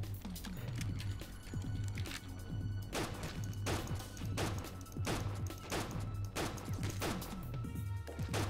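Gunfire in the video game The Stalin Subway: Red Veil, a run of sharp shots at irregular intervals, roughly every second, punching through a constant low hum of in-game ambience with no talking.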